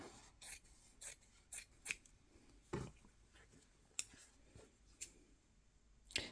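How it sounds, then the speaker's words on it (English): Scissors snipping through fabric while making a needlebook for slow stitching, a series of quiet, crisp cuts spaced about half a second apart in an otherwise hushed room. "So I want to cut it pretty long."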